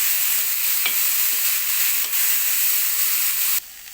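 Boiled peas for pattani sundal tipped into hot oil tempered with dried chillies and curry leaves, giving a loud steady sizzle with stirring scrapes that cuts off sharply near the end.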